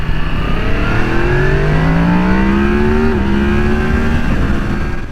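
A 2022 Yamaha MT-10 motorcycle engine accelerates loudly up through the gears, its pitch climbing in repeated rising sweeps with a brief dip at each shift, close and without talking.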